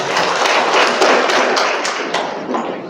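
Crowd of pilgrims clapping hands together at a large Umrah rehearsal gathering, a dense, loud, continuous patter of many claps filling the hall with a few sharper individual claps standing out.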